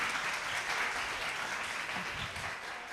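An audience at a children's holiday recitation contest applauds steadily, a dense wash of clapping, moderately distant and fairly quiet throughout.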